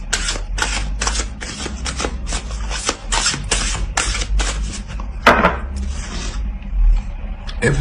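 Oracle cards being shuffled at close range in a steady run of crisp riffles and flicks for several seconds, with a thump partway through and a soft rustle near the end.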